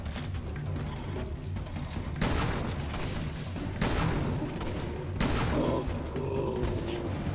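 Explosions from thrown exploding bottles in the video game Resident Evil Revelations 2, three loud broadband bursts roughly every one and a half seconds over a constant low rumbling, mechanical game soundscape.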